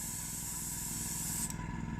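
Fine mist from a hand sprayer hisses steadily and close, then thins and trails off toward silence near the end.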